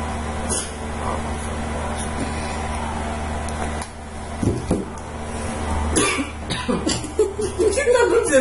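A character coughs and chokes in The Wolf Among Us, episode two, with a few rough bursts in the middle over a constant low game hum and talk near the end.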